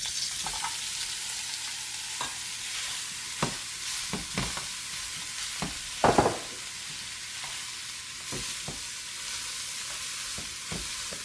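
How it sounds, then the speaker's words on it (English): Pre-cooked ground turkey frying in olive oil in a pot, a steady close sizzle broken by irregular scrapes and clacks of stirring, one louder knock midway. "We will add our turkey, which was already pre-cooked."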